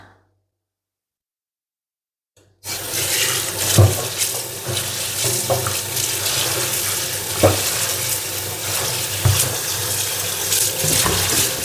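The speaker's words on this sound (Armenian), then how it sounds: "նորից այսպես եմ վերցնում, պահում եմ հոսող ջրի տակ" After a few seconds of silence, a tap bursts on and water runs steadily over fresh herbs in a sink, a loud, close splashing rush with occasional sharper splatters.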